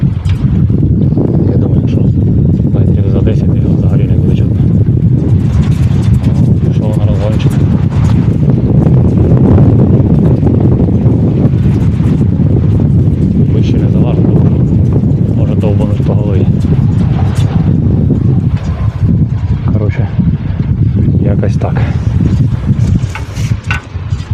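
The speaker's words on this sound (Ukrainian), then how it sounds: "Звісно, там шум буде, тому що вітер." Heavy wind buffets the microphone throughout, a loud continuous rumbling roar with speech partly buried beneath it.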